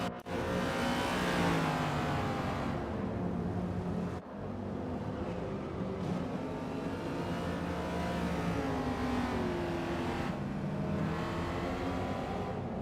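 Race car engine in Gran Turismo 7 roars loud and steady throughout, revving and shifting through gears with brief dips, no speech over it.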